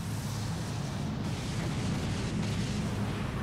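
An enemy ship blowing up in the space battle game Dreadnought, a loud, continuous low rumbling blast that rolls on for several seconds without a break, with no voices over it.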